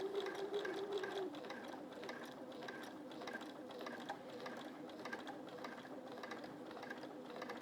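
A domestic sewing machine stitches a quilt in steady, rapid mechanical whirring bursts with rhythmic pauses, close and moderately loud, with a brief bird call early on.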